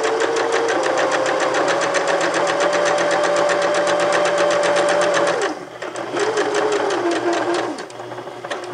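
A sewing machine stitches a back stitch in a continuous loud whir, briefly pausing and changing pace before resuming, with no talking.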